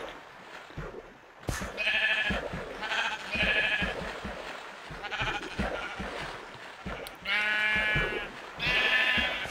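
Sheep in Minecraft bleat repeatedly over several seconds, a string of wavering baa calls close up and fairly loud, broken by short gaps and soft thumping game sounds.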